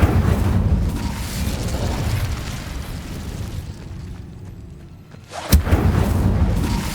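An Incendio fire spell cast in the Hogwarts Legacy video game, a loud rumbling roar of flames and blasts that dips briefly, then surges back with a sharp crack.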